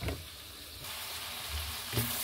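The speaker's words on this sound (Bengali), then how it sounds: "আমি হাড়টা রান্না করার জন্য মশলাটা কষিয়ে নিয়েছি" Spices frying and sizzling in a pan for a goat bone curry with chana dal, a steady close hiss with a couple of brief stirring clatters, no talking.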